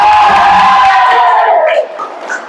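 Students in a classroom crowd cheer and whoop loudly together for about two seconds after their team scores points, then the shouting drops off into scattered fading voices.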